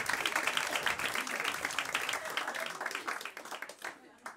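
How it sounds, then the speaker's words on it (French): A comedy club audience breaks into applause, a burst of many hands clapping that stays dense and then thins out and fades toward the end, with some voices in the crowd. "N'applaudissez pas ça."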